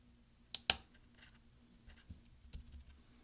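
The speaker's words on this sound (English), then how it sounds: "you're just going to push down until you hear some snaps" Replacement F3 key pressed onto a 13-inch MacBook Pro Unibody keyboard, giving two sharp, close plastic snaps in quick succession, then a few faint clicks.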